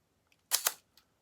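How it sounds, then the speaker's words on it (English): A Canon 7 rangefinder camera's shutter fires with a close, crisp double click, followed a moment later by a faint softer tick, heard alone in a quiet room. "Nice shutter sound."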